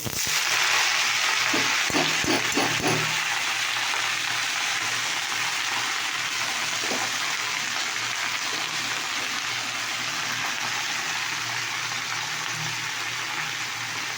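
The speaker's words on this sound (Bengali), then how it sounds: "দেখতে পাচ্ছ গরম হয়ে গেছে, এবার আমি শাকটা" Leafy greens hit hot oil in a pan, setting off a loud, dense, steady hiss that fills the whole stretch. A few clattering knocks come near the start, and no one speaks.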